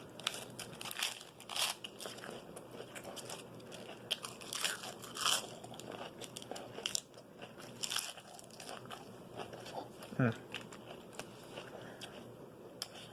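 Crisp, crunchy bites into a very fresh whole head of lettuce, irregular close crackling chews repeating over several seconds, faint and alone with no talking.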